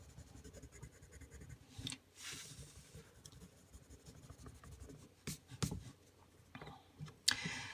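Coloured pencil rubs and scratches across paper while blending, with soft continuous strokes and a few louder, sharper scrapes, close and quiet with no speech.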